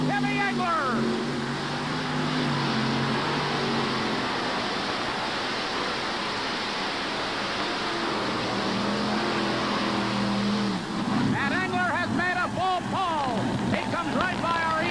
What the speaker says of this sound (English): They like it here as these engines come to life.